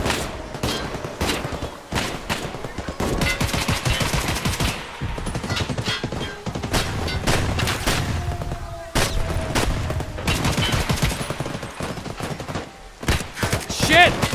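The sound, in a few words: AK-308 rifle gunfire in Escape From Tarkov video game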